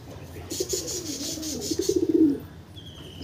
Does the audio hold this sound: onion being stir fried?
no